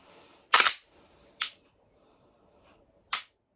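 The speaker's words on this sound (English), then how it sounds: "Nice tactile reset on both of these pistols." Trigger reset clicks on Glock and S&W M&P pistols, three sharp, close, dry clicks, the first a quick double, spaced apart in near silence.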